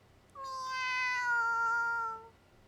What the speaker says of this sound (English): Is that a cat I hear meowing just outside?